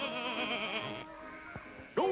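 A cartoon sheep bleats in a long, wavering, nasal cry, followed by quieter short bleats and a final sharp rising call, heard clearly with no talking.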